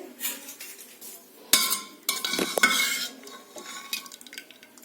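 A pot of vegetable curry is handled on a home stove in a kitchen, with sharp metallic clanks and scrapes of pot and utensils in irregular bursts, close and fairly loud, no talking.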